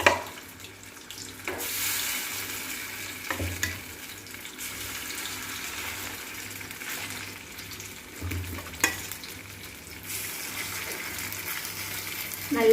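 Chicken pieces dropped into hot oil for a Kerala-style chicken gravy fry with a steady, moderate sizzle, broken by a few clattering knocks of pieces and utensils against the pan.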